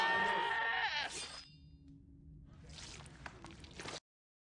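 A goat bleats loudly and close at the start, a single quavering cry, followed by quieter rustling and ambient noise.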